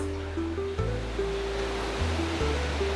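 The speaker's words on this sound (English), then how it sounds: "Just love the waves." Ocean surf at a beach in Dapoli rolls on as a continuous, broad wash of waves, with a low steady hum running beneath it.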